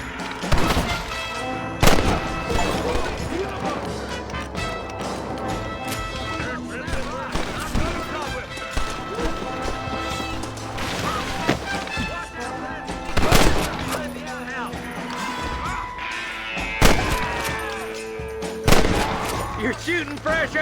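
Gunfire in Red Dead Redemption 2 during a shootout, with sharp shots cracking irregularly in bursts over game music and background voices.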